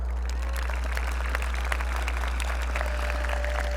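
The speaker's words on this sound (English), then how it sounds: "how about we give the 50-year graduates a nice round of applause?" The audience at a high school graduation ceremony applauds the 50-year graduates, a continuous crowd of clapping hands over a low steady hum, with no speech.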